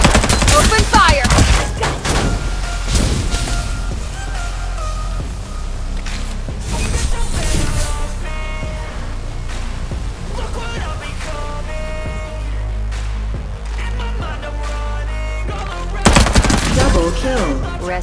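Video game Farlight 84: rapid bursts of automatic gunfire crackle loudly and repeatedly, with shots, impacts and game effects layered together in a busy, continuous firefight.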